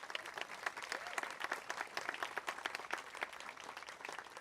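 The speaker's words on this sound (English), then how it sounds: "one more big round of applause for our 8th graders" Dense, steady applause from a school audience at an 8th grade recognition ceremony, many hands clapping together loudly and continuously with no break.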